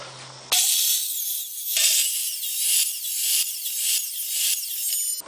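A power saw cutting a half-inch groove into wood for a gate in several rising and falling passes, loud and near, whining steadily before cutting off at the end.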